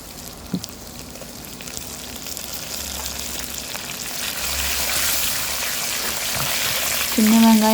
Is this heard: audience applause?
no